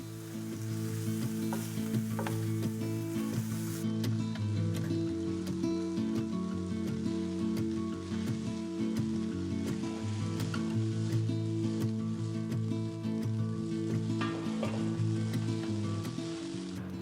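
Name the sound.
sautéing rice dish with soy sauce in pan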